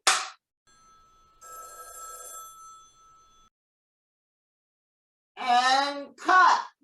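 A telephone rings in an acting class exercise, one steady electronic ring lasting about two seconds in the middle, with short voices before it and after it.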